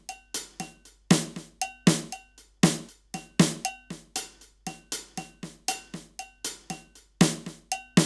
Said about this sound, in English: So now you hear what paradiddles sound like when you accent every third note.